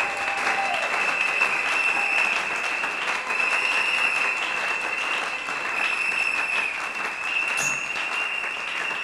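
A church congregation applauding steadily and loudly throughout, a dense continuous wash of clapping from a large crowd, with faint voices and a sustained musical tone underneath.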